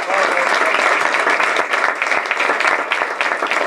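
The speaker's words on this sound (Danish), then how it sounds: "Vi laver lige en lille øvelse, hvor vi lige alle sammen klapper i hænderne." An audience at a school talk claps their hands together in a sustained burst of applause, dense and steady at first and thinning slightly toward the end, with no one speaking over it.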